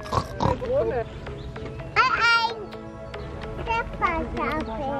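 A voice mimics a pig with a few squealing, grunting oinks, mixed with bits of chatter from the child and an adult in a lively family setting.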